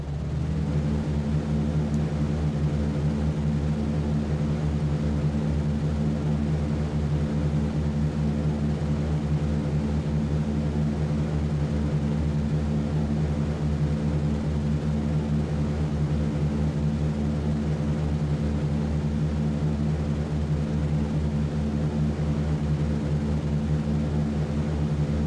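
B-17 Flying Fortress propeller engines roar steadily at takeoff power in a flight game, a loud, constant multi-engine drone with a deep throbbing hum that holds unchanged throughout, with no voices.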